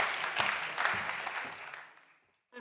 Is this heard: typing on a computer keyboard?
no